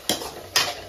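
Two brief scraping strokes of a utensil against a pan as oil is added and food stirred, close and distinct, about half a second apart.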